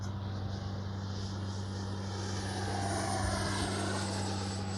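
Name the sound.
FlyFans L-39 RC jet at full throttle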